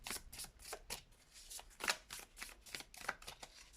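Tarot cards are shuffled by hand in a soft burst of quick riffling flicks and slides, close and quiet, with no speech.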